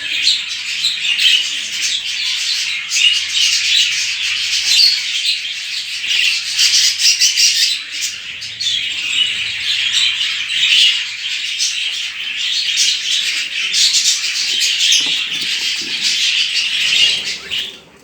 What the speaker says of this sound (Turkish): nasıl besliyor yavru ikisi birden